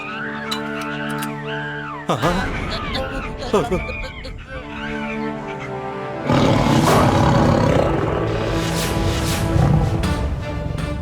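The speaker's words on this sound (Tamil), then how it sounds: "உருமல் சத்தத்தை கேட்டீங்களா" A tiger growls and roars in a forest setting, the roar rising loud and sustained, with dramatic background music and other animal calls layered around it.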